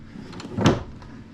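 A wooden drawer with metal runners and a wooden bottom slides in a tube tester box, giving one short woody clunk midway through a quiet room, with no talking.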